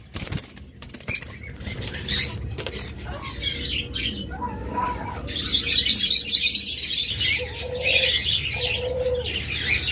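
A pair of yellow pet birds, budgerigars or similar cage birds, fluttering their wings and giving soft coos and chirps, close by, over a steady background hum.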